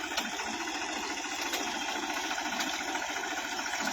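A tractor runs in first creeper gear at very slow speed, pulling an SP Agro onion planter through a field. It gives a steady, close, rapid mechanical chatter with faint periodic clicks and no talk.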